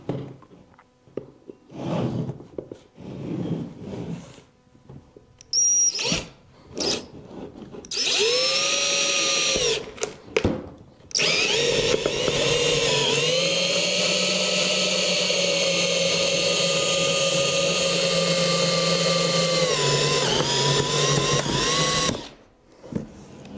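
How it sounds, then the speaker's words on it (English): A power drill whines steadily for several seconds boring through foam at an angle, pitch dipping under load, after a few short bursts and clicks. "start your hole and start to drill."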